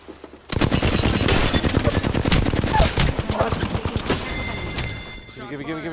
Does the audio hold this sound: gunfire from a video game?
yes